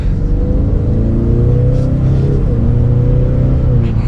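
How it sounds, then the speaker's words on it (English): A Ford Mustang EcoBoost with a 2.3-liter four-cylinder, in sport mode, accelerates gently, its loud, steady engine drone rising slightly in pitch over a constant road rumble, heard from inside the car. "Just a mild acceleration up to speed."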